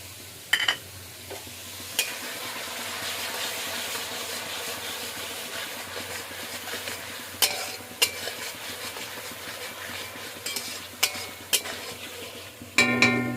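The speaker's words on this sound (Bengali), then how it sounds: "আমি এটা একটু হতে দেব আর একটু কষাবো, কারণ চিকেনটা ম্যারিনেট করিনি, তো আমাকে মশলাটা একটু ভালো করে কষাতে হবে" Chicken being stir-fried in a pan with chilli, salt, cumin and turmeric powders in oil, a steady close sizzle broken by sharp scraping clicks of a spatula against the pan.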